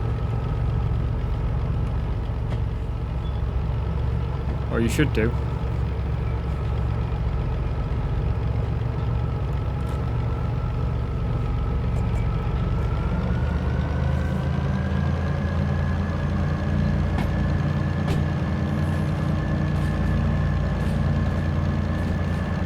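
A slug locomotive unit in Derail Valley runs with a steady, low diesel-like drone that holds for a long stretch, its pitch rising slightly partway through, with a brief spoken remark near the start.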